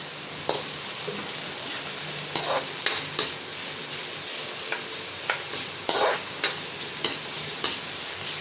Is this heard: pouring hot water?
no